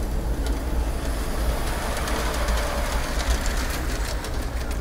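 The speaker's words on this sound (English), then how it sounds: "This is the most amazing train thing ever." A miniature train rolls through a corridor of a children's medical center in Dallas, a steady continuous rumble and faint rhythmic clatter at moderate distance, with no voices.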